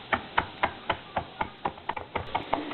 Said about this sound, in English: we finely slice 3 green onions using only the white and light green part, and chopping a 1/2 bunch of flat leaf parsley